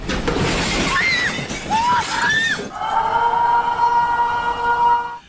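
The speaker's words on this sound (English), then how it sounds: "The siren soon sounded on the Pacific coast of Japan's northernmost island, Hokkaido." A loud tsunami warning siren on Hokkaido's Pacific coast, Japan, wails with rising and falling tones, then settles into a long, steady drone over a rough, noisy background.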